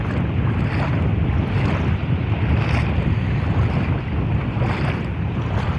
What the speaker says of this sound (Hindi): यहाँ पे देख सकते हैं समुद्र तेज़ लहरों के साथ, तेज़ तूफानों के साथ